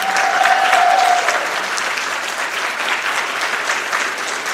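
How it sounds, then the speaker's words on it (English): A crowd at a high school senior awards night claps steadily, a dense, even wash of applause held at moderate loudness for a few seconds. "Could we please give a big round of applause, seniors, to those who supported you along the way."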